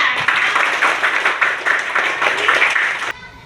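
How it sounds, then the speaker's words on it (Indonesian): A classroom of students claps for a classmate, brisk overlapping applause lasting about three seconds before cutting off abruptly into quiet room tone. "Oke, tepuk tangan dulu untuk Kaila."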